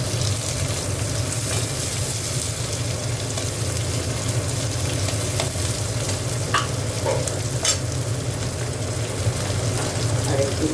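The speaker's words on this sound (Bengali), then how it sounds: "পেঁয়াজটা ভাজা ভাজা হোক।" Sliced onion fries in hot oil in a pan, giving a steady, dense sizzle that runs continuously at close range with a few faint clinks of stirring.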